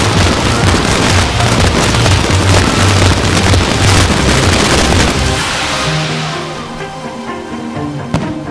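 Fireworks burst over the Said Sirajuddin Arif Putra sports complex in Perlis during an opening ceremony, a dense continuous crackling and popping wash that stays loud, then thins out into scattered crackles and a final sharp pop.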